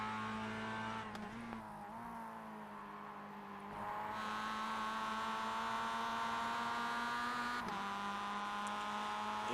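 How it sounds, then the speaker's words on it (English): Onboard race car engine at Road America holding a steady high-revving drone with strong harmonics, briefly stuttering near the rev limiter before settling back to a sustained loud pitch, no talk. "Is it him who's missing a shift and bouncing off his rev limiter?"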